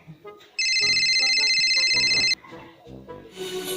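A telephone rings once in a steady electronic trill of nearly two seconds, loud and close. Voices and background clatter come before and after the ring.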